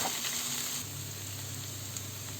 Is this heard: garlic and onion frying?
yes